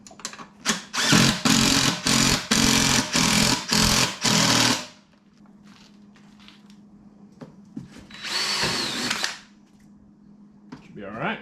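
Impact tool tightening a bolt while Polaris RZR seats are fitted into a Yamaha Rhino, giving a loud run of rapid hammering bursts, then a quieter pause and a shorter second burst.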